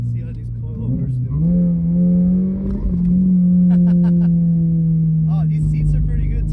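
A 2023 Toyota GR86 accelerating, engine droning steadily from inside the cabin with a brief dip like a gear change, while people talk over it.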